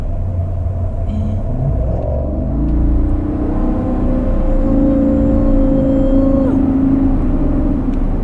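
A 2019 GMC Sierra Denali pickup truck pulls up a hill, its engine a loud, steady low rumble that swells as it climbs, with a shift in tone partway through and no talking.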